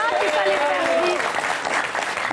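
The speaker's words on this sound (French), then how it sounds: "Applaudissements, premier point pour HKM." A studio audience on a French-language Algerian television quiz show claps steadily for a few seconds, with voices talking over the applause.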